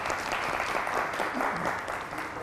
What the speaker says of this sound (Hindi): दोबारा से जी तालियाँ होनी चाहिए इनके लिए।